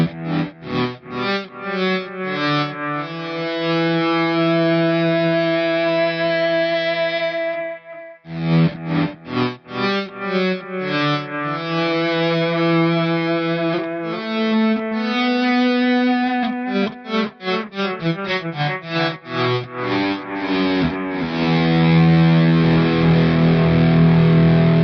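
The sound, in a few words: electric guitar volume pedal swells with effects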